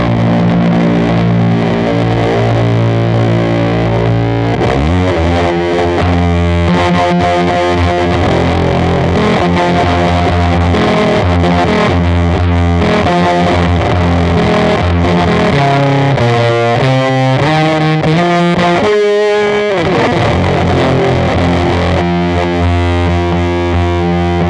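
Abominable Electronics Toke Machine distortion pedal pushed into its higher gain stage, a thick, saturated electric guitar playing loud sustained chords and riffs with fuzzy harmonics, no talk.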